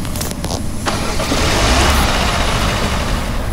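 A car engine in the Roblox game Dusty Trip runs with a dense, continuous rumble and hiss at close range, steady after a brief rougher start.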